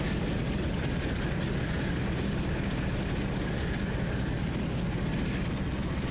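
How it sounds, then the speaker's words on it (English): A Class 45 Peak diesel locomotive in Train Sim World 5 on the Preston to Carlisle line, with a continuous dense low throbbing engine roar mixed with rolling rail noise, steady and alone without talk. "a throbbing, that's it, like a throbbing noise. That this engine has"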